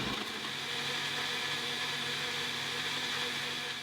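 A blender grinds a large onion, two inches of ginger and a little water, a loud, steady motor whir with a churning texture that runs on evenly, close up with no talk.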